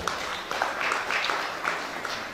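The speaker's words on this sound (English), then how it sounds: "Please give him a big round of applause." An audience applauds the cameraman, Mr. Allen, at a celebration-of-life event: steady, moderately distant clapping with a broad wash of hand claps throughout.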